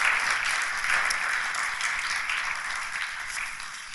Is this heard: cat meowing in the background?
no